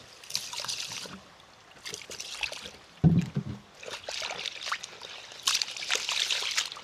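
Jasmine rice being washed in water: splashing, swishing and trickling of water against grains and a pot, close and intermittent with a sharp knock midway, in an outdoor riverside setting.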